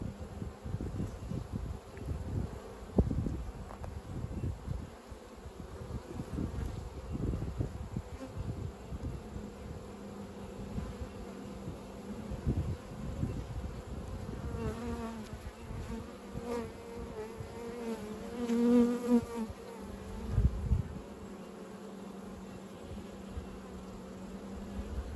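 Honey bees buzz around hives in an apiary during feeding and winter preparation, a continuous close droning hum with individual bees swelling past, plus faint handling rustles and soft clicks.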